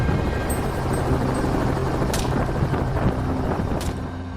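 Helicopter flying over dry bushland during a Florida wild boar hunt, a continuous rough rotor rumble buffeted by wind noise, close and steady throughout.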